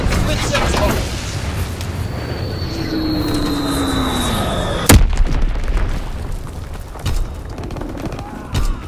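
Bombs fall and explode during a bombing run in a video game, with a whistling descent followed by a sharp blast near the middle, all over continuous rumbling battle noise and game voices.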